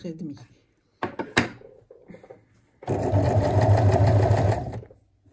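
A sewing machine stitches a skirt seam 1.5 cm from the fold, starting after some handling knocks and someone speaking French, then whirring loudly and steadily for about two seconds before stopping.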